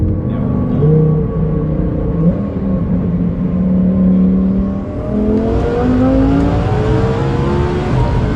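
A 2000-horsepower drag-built Lamborghini V10 revs and accelerates nearby, its loud rumbling engine note sweeping upward in pitch as it gathers speed, with no talking over it.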